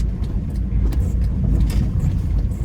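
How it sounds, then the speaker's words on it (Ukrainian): A car pulls in to park in first gear with the right indicator on during a driving-exam route in Uzhhorod, giving a steady low engine and road rumble close by without speech. "Для цього у нас є правий покажчик і перша передача. І будемо заїжджати."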